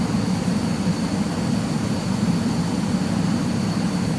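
A Hawk T1/A jet in Microsoft Flight Simulator 2020 powers up, its engine a steady broadband roar with a thin high whine running throughout, even and unbroken, with no talk.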